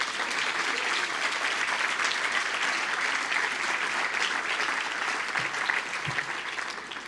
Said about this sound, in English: how about a round of applause for Safeway?